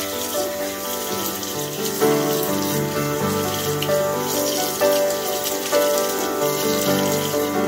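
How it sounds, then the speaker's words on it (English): Water running steadily while soy lime resist paste is rinsed off fabric, a continuous close splashing wash like a tap over a sink, with music playing underneath. "So let me start rinsing off the paste."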